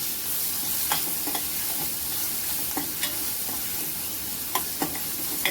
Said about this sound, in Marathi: छान छान परतायचं आहे ते मस्त असं